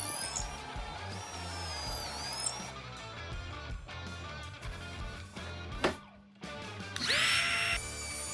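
A power drill bores pocket holes into wooden table frame pieces, with a steady whining motor, a brief pause and then renewed drilling, loud and close.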